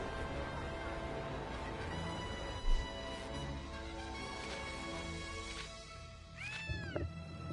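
A cartoon cat meows in the video game Gravity Rush, with several clear meows that rise and fall over a steady bed of game music and ambience. Near the end, a higher, curling mew stands out.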